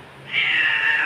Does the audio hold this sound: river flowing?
no